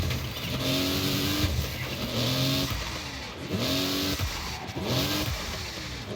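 The racing car in the arcade racer Screamer revs in waves, the engine note climbing and dropping again and again, with steady road noise and faint tyre squeal running loud and continuous throughout.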